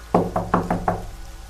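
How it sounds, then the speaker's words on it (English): Five sharp knocks on a door in a quick, even rhythm, close and clear, followed by quiet room tone with no talk. "I heard a knock on the door"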